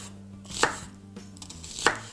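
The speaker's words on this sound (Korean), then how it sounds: "자, 이번에는 양파를 썰 건데요." A knife cuts onion into thick slices on a cutting board, landing two sharp, close chops about a second apart over a quiet kitchen background.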